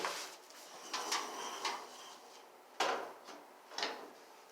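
Wooden bi-fold door panel from a Dunbarton Corporation unit being lifted and seated onto its pivot pins, giving several short knocks and clacks spaced about a second apart, fairly quiet and close with no talking.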